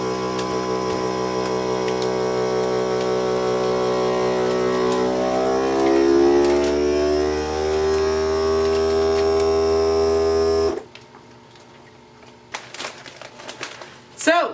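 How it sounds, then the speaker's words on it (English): A vacuum sealer drawing air from bags of chicken, a steady motor hum with a rising pitch as the bag tightens, then cutting off abruptly, followed by soft clicks and plastic rustling. "I'm going to vacuum seal it."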